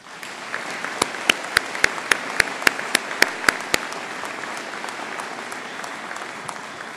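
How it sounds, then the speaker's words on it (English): Clapping from the audience at a 2019 university commencement ceremony, a steady crowd patter overlaid by a run of loud, sharp, evenly spaced claps close by that stop partway through while the softer applause carries on. "Please join me in a round of applause for our faculty and staff."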